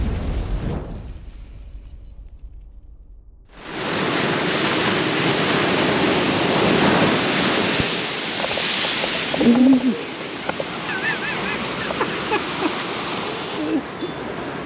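Ocean surf on a beach in La Coruña rolls in as a broad, steady wash that starts suddenly and stays loud and continuous, with faint bird calls and no talking.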